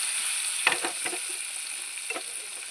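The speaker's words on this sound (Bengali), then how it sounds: "এই গ্যাসের ফ্লেমটা একটু লো করে দিয়ে লাগলাম একটু এমভাবে একটুখানি তড়কাটা নাড়িয়ে দিলাম" Tadka of curd and mustard stirred over a low gas flame, a constant high hiss of frying with a few soft spoon scrapes clustered early and one later, close by with no talk.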